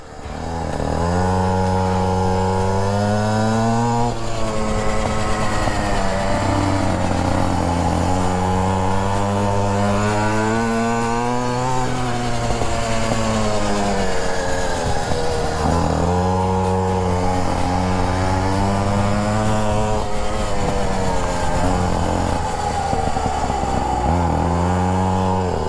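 Several mini motorbike engines race around a go-kart-style track, their high buzzing notes rising and falling continuously as they accelerate out of corners and lift off, loud and close throughout with no talking.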